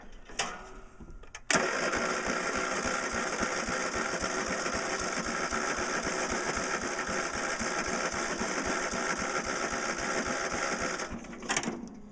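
Sears garden tractor engine with a rigged choke cranking, a sharp start after a short quiet lead-in giving way to a continuous fast mechanical whir that runs steadily until the sound cuts near the end, with no talk.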